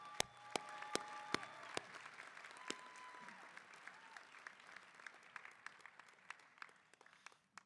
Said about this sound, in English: Let's give another round of applause for the Mayor and the Lieutenant Governor.